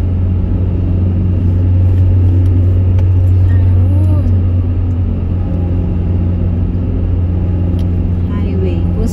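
Highway traffic between Morong and Baras, Rizal, rumbles steadily from inside a moving vehicle, a low continuous engine drone with passing motor sounds, while people talk over it.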